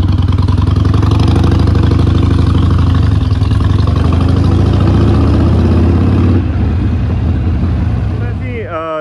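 A small motorcycle engine idles close by, a loud, steady low throb that runs unbroken for about nine seconds before easing slightly at the end.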